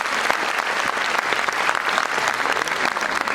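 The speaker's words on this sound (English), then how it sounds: "UKG students, please give them a round of applause once again for their mind-blowing performance, parents." Parents at a preschool class presentation give UKG students a round of applause, a loud, dense burst of clapping that holds steady throughout.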